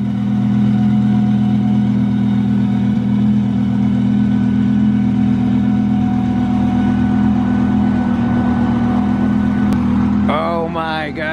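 A boosted Lamborghini Huracan idles nearby with a loud, steady low drone for about ten seconds before a voice starts talking over it at the end.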